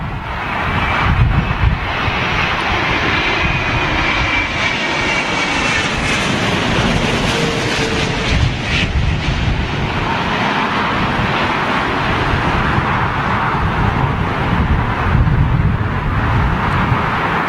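A Boeing 787 Dreamliner arrives at London Heathrow in stormy, gusty weather, its jet engines a loud, sustained roar mixed with heavy wind buffeting against the microphone throughout.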